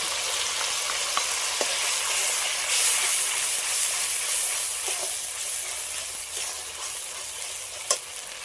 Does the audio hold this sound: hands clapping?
no